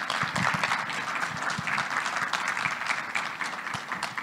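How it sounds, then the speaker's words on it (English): Steady, dense applause from a large audience at a cloud-native security conference opening session, a continuous wash of many hands clapping for the full length with no talk over it. "give her a round of applause"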